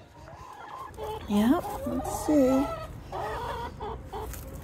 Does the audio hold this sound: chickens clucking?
yes